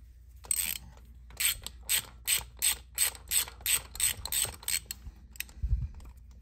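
A hand ratchet with a 5/8 spark plug socket loosens a spark plug, about a dozen close, evenly paced clicking strokes, quiet and rhythmic, with no talking.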